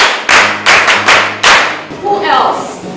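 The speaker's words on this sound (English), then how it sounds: "Clap for her." A small group claps hands in several short bursts of brisk, fairly close applause in a classroom-like setting, with a voice talking briefly near the end.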